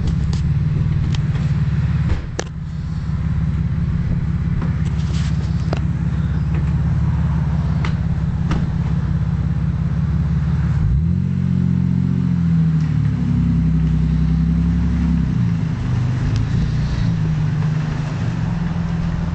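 A Toyota Supra driving in Sweden: a steady low engine drone carries throughout, with a deeper rise in pitch and load midway as the car pulls harder, heard from inside without talk.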